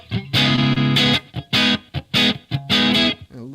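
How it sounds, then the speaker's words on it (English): Electric guitar through a 6L6 tube amp with slapback echo, playing a few short, gritty strummed chord bursts separated by brief pauses, close and clear. "Just a little slap back."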